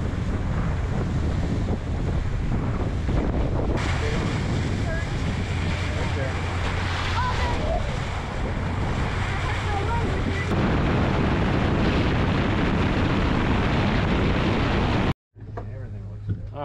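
Choppy waves from an outgoing tide and westerly wind slap around a small boat in the Everglades, with heavy wind buffeting the microphone in a steady roar that cuts off abruptly near the end.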